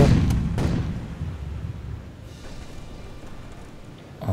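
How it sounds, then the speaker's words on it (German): Cannon fire in a naval battle from the pirate game Age of Pirates: Caribbean Tales, a heavy booming burst at the start, then rumbling, crackling decay that tapers off with a smaller thump at the end. "Jetzt werden sie schießen."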